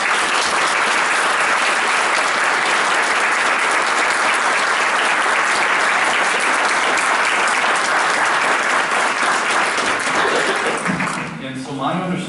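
At a Brighton area schools board meeting, a room full of people applauds students who stand up, steady dense clapping for about eleven seconds before it fades out.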